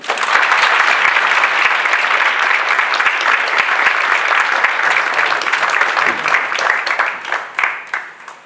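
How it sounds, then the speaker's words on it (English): Applause from an audience after a Bharatanatyam arangetram dance performance fills the hall, loud and sustained before tapering off at the end, with faint speech beneath. "Shall we have a round of applause for Arya here?"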